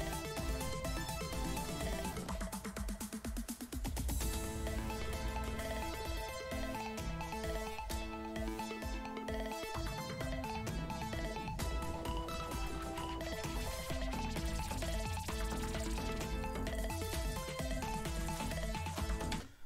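An electronic music track in a remix, layered synths building energy, plays loud and dense throughout with a steady full sound and no talking.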